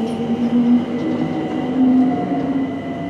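A London train running between Stonebridge Park and the stations toward Watford, heard from inside as a steady rumble with faint squealing wheel tones, no voices.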